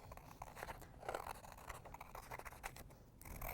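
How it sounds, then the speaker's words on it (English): Scissors cut carefully along a pattern line in a series of quiet, close snips and scrapes, irregular in rhythm and alone. "Now I'm cutting very carefully along the line here"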